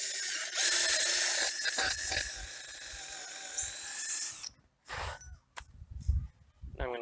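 A drill bit drills into wood while a raised garden bed is built, a loud whining, chattering spin lasting several seconds, then stopping, followed by a few short bursts and clunks.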